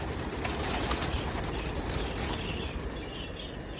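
Pigeons in a loft beat their wings in a soft, steady flurry of fluttering, fairly quiet and close, with no voices over it.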